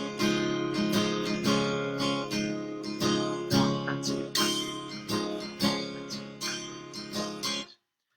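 A guitar strums a busy, syncopated rhythm for a song. The down and up strokes are bright and dense, and the playing stops abruptly at the end.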